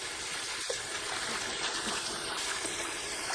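Mugwort leaves being rinsed in water: a steady broadband splash and running-water wash, fairly close and continuous, with no voices.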